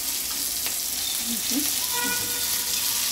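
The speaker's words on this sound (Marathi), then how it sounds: "फ्राय होत आधी आहे कोळंबी. उलटून द्यावी." Prawns (kolumbi) frying and being sautéed in a pan give a steady, dense sizzle throughout, with a few soft stirring scrapes mixed in and no talking.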